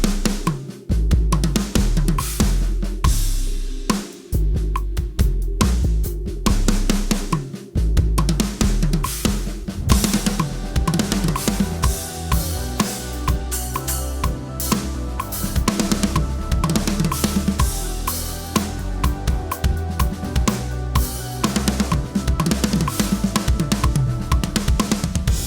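A drum fill combining four sticking patterns in sequence: rapid, dense stick strokes across drums and cymbals with heavy kick hits, loud and close, running continuously for about twenty-five seconds without talk.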